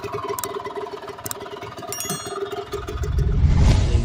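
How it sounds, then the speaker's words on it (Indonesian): A Vespa scooter engine putters with a steady, clattering idle-like rhythm, then swells into a louder, closer rumbling roar in the last second as it passes nearby. "motor Vespa"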